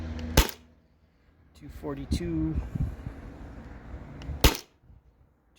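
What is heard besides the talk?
modified Sabre 68 HDL CO2 marker firing through chronograph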